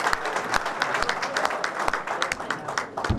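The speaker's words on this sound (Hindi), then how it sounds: "जोरदार तालियों से आप उनका अभिनंदन करें" Party workers applaud loudly at a BJP meeting welcoming seven leaders into the party, a dense crowd of clapping with sharp individual claps standing out, steady and close for about three seconds.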